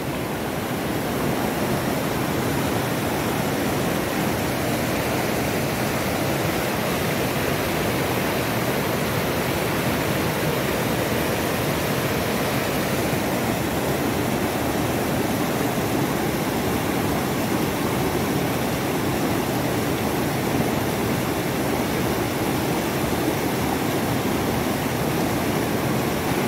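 Water of the Mechi River on the Indo-Nepal border rushes in a steady, loud, broadband roar that runs unbroken and alone throughout.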